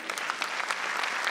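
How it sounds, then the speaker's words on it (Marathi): An audience at a stage bhajan performance applauding: dense, steady clapping from many hands, moderately loud and sustained for the whole short stretch, with no voices over it. "जोरदार टाळ्या दिल्या तर फार मजा येईल."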